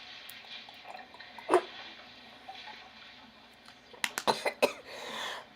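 A single quiet cough, then after a pause a quick burst of several coughs in a row, with faint background noise in between.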